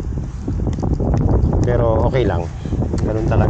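Wind buffets the microphone outdoors during baitcaster fishing casting practice, a low roar while someone talks over it in Tagalog.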